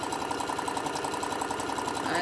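A sewing machine stitches lines across a candy corn print mug rug, a steady rapid mechanical chatter running without pause at moderate loudness and close by.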